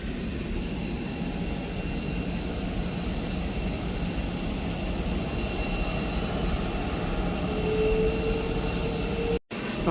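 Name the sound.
aircraft jet engines at Punta Cana airport apron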